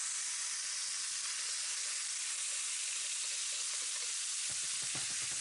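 Herring fillets frying in a pan, a steady bright sizzle and hiss, fairly quiet and continuous, with a few soft clicks and stirring knocks near the end.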